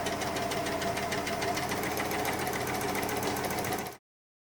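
Overlock serger sewing machine runs at speed in a test, a fast even mechanical chatter with rapid rhythmic knocking, close and loud, stopping abruptly after about four seconds.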